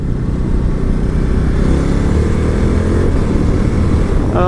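A 2018 Ducati Multistrada 1260S motorcycle engine pulls hard during a test ride, a loud, steady, close-up roar that builds through the whole stretch with wind rush, no talk over it.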